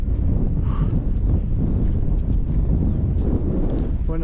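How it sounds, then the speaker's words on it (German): Strong wind buffets the microphone on an exposed mountain slope during a high-altitude marathon, a steady loud roaring rush with gusty swells and no break throughout. "da kommt doch der Wind her"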